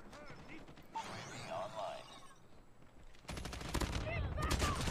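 Bursts of automatic gunfire from the mobile shooter Call of Duty Mobile in ranked play, rapid rattling volleys that grow denser and louder toward the end, with scattered game effects and faint talk underneath.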